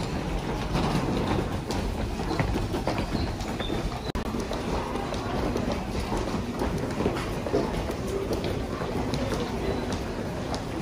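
Busy Japanese train station with a train rumbling through the steady crowd noise, footsteps and clatter, loud and continuous, with people talking throughout.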